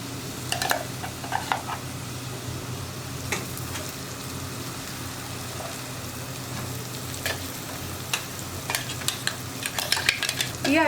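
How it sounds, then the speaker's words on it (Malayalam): Ground masala paste stirred into frying onions over lowered flame for egg potato curry, a steady close sizzle with scattered spoon scrapes and clinks against the pan, no voices. "ഇതിലേക്ക് നമ്മൾ അരച്ചു വെച്ചിരിക്കുന്ന അരപ്പ് ചേർക്കാം"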